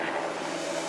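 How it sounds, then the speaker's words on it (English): A helicopter flies overhead, producing a loud, steady, broad engine and rotor drone that fills the whole brief moment without any break. "got a helicopter flying over"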